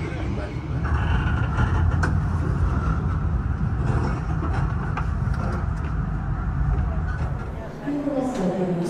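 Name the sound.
Blambangan Express passenger train arriving at Jember station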